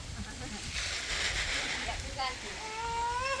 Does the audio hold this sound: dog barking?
no